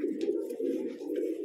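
Pigeons kept for sale coo in a steady, low, throaty warble, close and continuous, with faint chirps above.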